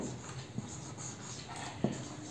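A pen scratching across paper as an answer is written out, a soft steady hiss of strokes close by, broken by a couple of light taps against the page.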